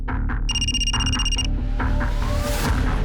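A telephone rings in a short electronic burst of about a second, loud over a steady background bed of music and ambient noise that keeps going after the ring stops.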